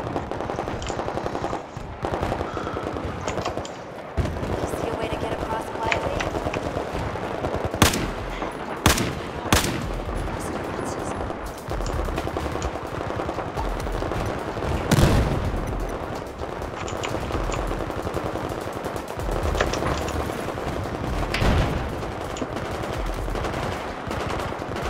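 SVD scoped rifle and other gunfire crackle in a Battlefield video game match, dense bursts of machine-gun rattle with several sharp louder shots standing out, continuous and close.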